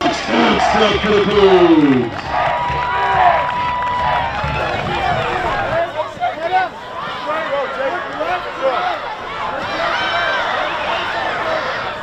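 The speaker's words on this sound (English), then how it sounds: "With the noisy roar of the Spanish Springs crowd" Home crowd noise in the stands at a Spanish Springs high school football playoff game, a busy roar of cheering, whooping and chatter running steadily throughout, with voices talking close by.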